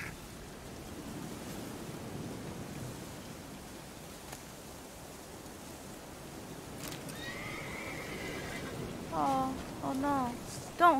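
Roach, Geralt's horse in The Witcher 3: Wild Hunt, lets out a couple of wavering, moderately loud neighs near the end of a stretch of low ambient game noise.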